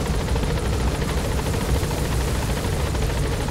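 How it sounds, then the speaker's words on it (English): Helicopter in the video game Metal Gear Solid 5: The Phantom Pain, a loud, steady rotor and engine roar filling the whole stretch with no talk. "They have a helicopter?"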